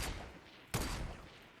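A single sharp gunshot cracks out about midway through a Fortnite match, standing loud and broadband over a steady hum of game ambience, with no talk over it.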